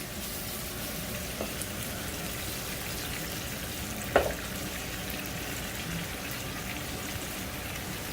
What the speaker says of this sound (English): So here we're just cooking the lobster.